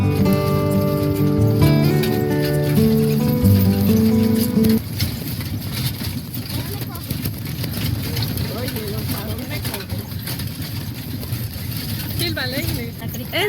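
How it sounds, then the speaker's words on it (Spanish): Horse hooves clip-clop along as a horse-drawn carriage rolls on a beach at Guardalavaca, the steady patter running throughout under people talking, with a musical tone in the opening seconds. "¿tú estás manejando el caballo?"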